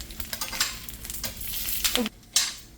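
Dried guajillo and ancho chiles lightly frying in a pan crackle and sizzle in uneven close bursts, with a few stirring scrapes, then a short pause before the sizzle returns.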